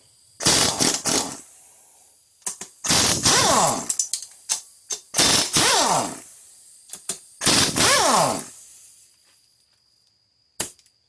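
Ratcheting wrench bursts loosening 14 mm acorn nuts on a Honda Rancher 350 ATV engine during a teardown, four rapid clicking runs separated by short pauses, close and fairly loud, ending with a single sharp metallic click.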